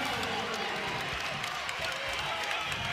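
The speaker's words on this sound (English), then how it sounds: "And the crowd is into it." Basketball arena crowd at an NCAA men's game between SMU and UL Monroe, cheering and roaring steadily as the home side mounts a comeback, a dense continuous wash of voices and noise filling the hall.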